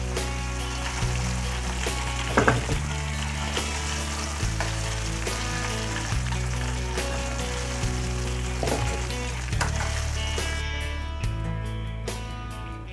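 Golden shrimp balls deep-frying in oil bubble with a dense, steady crackle and hiss, with occasional louder pops and a low hum underneath, close and sustained throughout.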